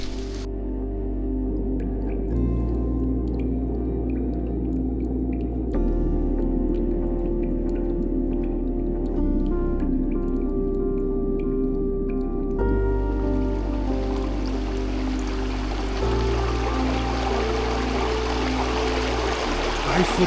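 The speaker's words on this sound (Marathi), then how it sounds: "स्वच्छ पाणी फार भारी वाटते असा खळखळणारा आवाज ओढ्याचा" A babbling mountain stream of clean, clear water runs near a remote waterfall trail near Kolhapur, a steady broadband rush and gurgle continuing without a break from start to finish, close and fairly loud.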